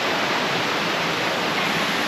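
Steady broadband roar of the Bang Max Waterfall, constant and close, filling the whole stretch without pause or voices.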